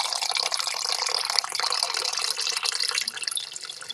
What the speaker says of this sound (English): There's some sound effects for you, dude. Me getting water.